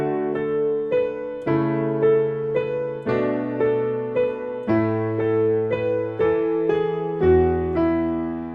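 Piano plays a passage of a song, sustained chords with a moving bass line and a steady lilting rhythm, close and clear with no talking.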